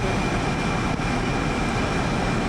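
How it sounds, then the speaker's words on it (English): Firefighting aircraft circle overhead during a desert wildfire, giving a steady, loud broadband engine roar that holds constant without pauses. "All these planes are making circles."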